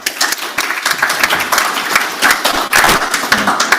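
Brief, uneven clapping from a conference audience welcoming a speaker at an opening plenary session, individual claps close and distinct, fading in and out over a few seconds.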